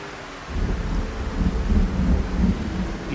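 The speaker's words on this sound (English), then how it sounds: "Beautiful thunder sound." Thunder rolls through a rural farm in Project Zomboid, a low, heavy rumble that swells after a short pause and keeps rolling for a few seconds, close and loud, with no voices over it.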